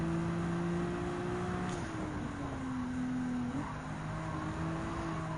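Maserati MC20 race car engine in Gran Turismo 7, a steady droning tone holding pitch then dropping slightly and rising again as it shifts, continuous and fairly close with no talking.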